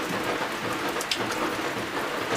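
Steady rainfall pattering on surfaces, a dense even hiss with occasional louder drops, no voices.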